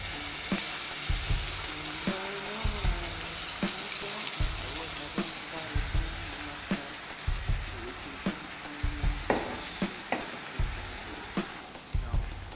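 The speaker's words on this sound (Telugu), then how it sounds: "ఒక 5-10 మినిట్స్ ఆయిల్లో బాగా వేయించుకుందాం" Masala sizzles in hot oil for tomato upma, giving a constant crackling hiss close up, broken by regular soft thumps and scrapes as it is stirred.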